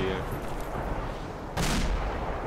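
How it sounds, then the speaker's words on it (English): Artillery fire in the combat game ArmA 2, a loud, broad blast of impact noise swelling suddenly partway through over a constant roar of battle, with a voice calling out at the start. "Fucking artillery here."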